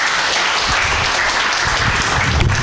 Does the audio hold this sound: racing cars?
no